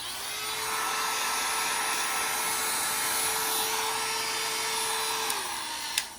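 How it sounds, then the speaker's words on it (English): A hair dryer blows with a steady, loud whirring hiss and a constant motor whine, then winds down at the end. "So I'm gonna go ahead and use my hair dryer and dry this."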